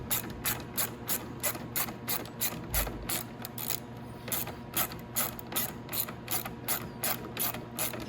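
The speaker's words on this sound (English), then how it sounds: "you're gonna need a wrench for the back of this one" Ratchet wrench loosening a bolt on the triple tree of a Venom X22R 250cc motorcycle: a close, regular series of sharp clicking ratchet strokes repeating at a steady rhythm, with no talking.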